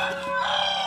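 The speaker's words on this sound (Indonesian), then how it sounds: "Tuh burung itu banyak tuh." Birds call outdoors at a campsite in Magelang, Central Java, a near, fairly loud bright crowing-like cry that sounds like a rooster or fowl, heard alone in one short burst.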